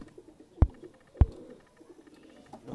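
A Salara pigeon of the Mian Nazeer bloodline gives two short, soft coos, spaced about half a second apart, close by against faint outdoor background noise.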